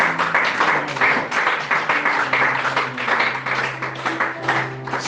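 A church congregation claps and cheers to acclaim the Lord, a steady loud wash of applause with a sustained tone from instruments or voices underneath.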